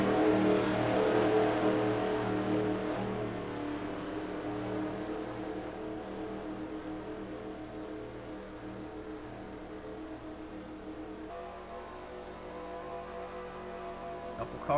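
Buick race cars during a heat race on a track, a steady, continuous engine roar from several cars passing at a distance, moderate in level with a slight drop partway through.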